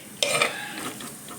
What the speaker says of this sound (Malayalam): ഇനി നമുക്ക് നല്ലപോലെ ഇളക്കി കൊടുക്കാം.